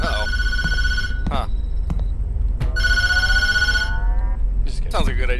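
Telephone rings in the horror video game Tattletail, two loud trilling bursts with a gap between, while someone talks excitedly over and between the rings.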